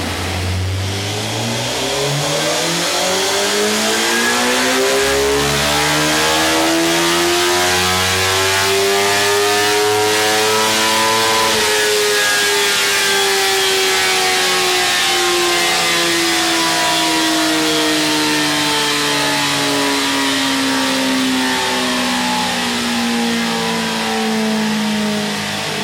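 A 2010 Suzuki GSXR 1000 L0 motorcycle with a Two Brothers exhaust and K&N filter revs on a dyno, the engine note climbing steadily to a peak, then winding back down, loud and close with no talk.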